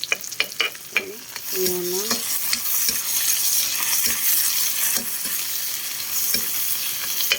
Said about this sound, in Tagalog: So, haluin muna natin.